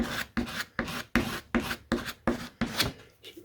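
Rhythmic rasping strokes of filler being scraped onto the fuselage of a Quarter Chippy model aircraft, about nine even passes in steady succession, close up and alone.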